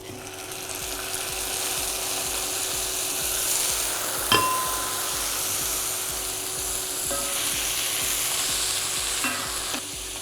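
Mutton sizzles in a pan with brandy and onions, a steady, close frying hiss broken by occasional metallic clinks and scrapes from stirring.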